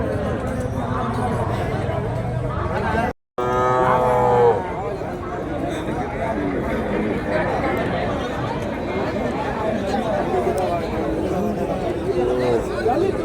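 Cattle lowing amid a busy native livestock market where cows and calves are sold, with a steady hubbub of crowd chatter and voices talking throughout, one brief gap near the start.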